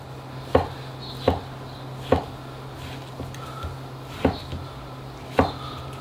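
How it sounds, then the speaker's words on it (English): A knife chops through cooked golden beets on a cutting board, six or so firm, evenly spaced thuds over a quiet room background, close up with no talking. "if it's a bigger beet, I like to cut it in half and then slice it."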